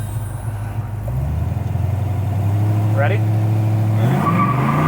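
A 1972 Chevrolet Nova with a stall converter revs hard and spins its tires, the engine note climbing and holding loud while a tire squeal rises near the end; a voice speaks briefly at the start.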